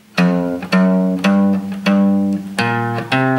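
Guitar plays the third and fourth bars of an intermediate beginner line, six clear picked notes in a slow, even rhythm, each ringing until the next, close and alone.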